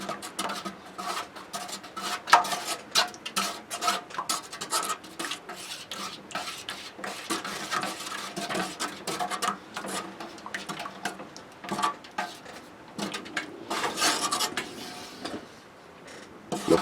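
Pine tar stirred in a container for painting an old telephone pole, giving a steady scraping and light clinking of the stirrer against the sides that runs throughout, close and moderately loud with no talk.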